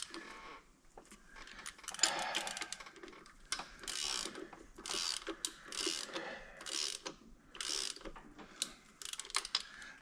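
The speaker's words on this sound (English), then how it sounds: "Easier to turn the crank now." Engine crankshaft being turned by hand during rear main seal and flywheel installation, giving close mechanical ratcheting clicks and creaks in short irregular bursts with quiet gaps.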